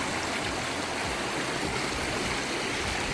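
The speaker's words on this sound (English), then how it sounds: "just hearing the water is so relaxing" A stream along the Gibb River Road rushes steadily, a broad, even hiss of flowing water with no pauses and no voices.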